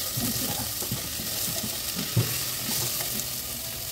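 Cabbage frying in a pan with salt added is stirred steadily, a continuous sizzle with repeated soft scraping strokes of the spoon, one slightly louder knock near the end, fairly close and alone.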